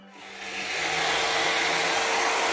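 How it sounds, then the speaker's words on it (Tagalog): A 2-in-1 hair dryer and volumizer runs on its low setting, a steady close airy whoosh with a faint motor hum that swells during the first second and then holds even. "blower na at the same time makaka-volumize pa ng hair"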